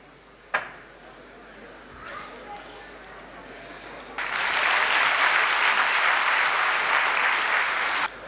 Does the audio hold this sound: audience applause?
yes